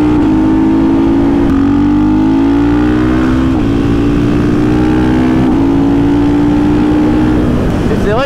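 A KTM 500 EXC-F 2024 motorcycle rides along with a steady close engine drone, its pitch dropping in clear steps at each quickshifter upshift, about four gear changes spread across the run.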